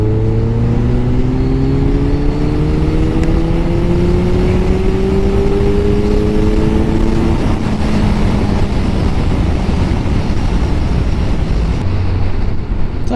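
Kawasaki Z motorcycle accelerating hard, loud close engine note with rising tones climbing through gears, a shift around the middle, then continued roaring wind-blasted engine noise at speed.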